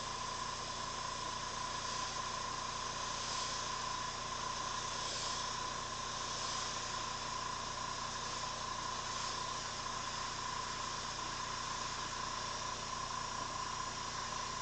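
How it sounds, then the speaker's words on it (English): An airbrush sprays paint in a steady, faint, continuous hiss with no pauses and no voices. "I'm mostly airbrushing in the open areas"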